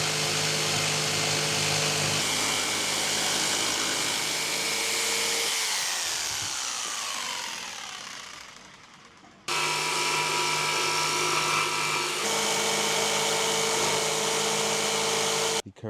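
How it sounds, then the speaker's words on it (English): A jigsaw cuts a hatch opening in a camper-van panel, buzzing loudly and steadily. The blade winds down and stops midway, then starts up again at full speed and runs until a final cutoff. "then I'm going to cut it out with the jigsaw"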